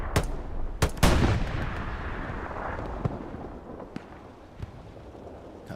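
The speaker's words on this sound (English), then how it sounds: "bombing run." Bombing-run explosions in the Hell Let Loose World War II shooter, on the Sainte-Mère-Église map, arrive as several sharp, heavy blasts early on, then rumble and decay while scattered distant gunshots pop through the rest.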